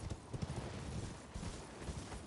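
Horse hooves gallop in the Elden Ring video game, a dense, continuous rhythmic clatter set against a loud, busy background of game noise.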